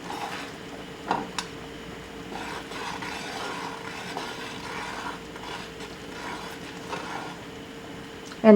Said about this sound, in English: You want to stir so it doesn't get burned.